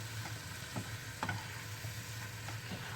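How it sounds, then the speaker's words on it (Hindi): Ginger, garlic and masala fry in oil in a pan for dal, a faint steady sizzle with occasional soft taps of a stirring spoon. "इसको तब तक भूनना है जब तक ये अच्छे से या जो मसाला है वो तेल ना छोड़ने लग जाए"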